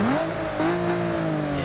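Car engine in the driving game BeamNG rises fast, then sits bouncing on its rev limiter with a loud, steady, buzzing drone.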